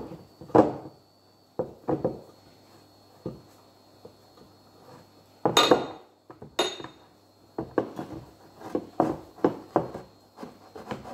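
Buttering a baking dish for a spinach polenta gratin: soft scraping and rubbing strokes inside the dish, punctuated by a few sharp clinks of the dish and utensil, close and intermittent.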